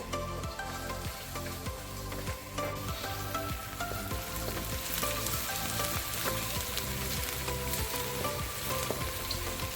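Garlic frying in a pan as part of a low-carb fried rice dish, a steady close sizzle with repeated crackling pops running throughout, no voices.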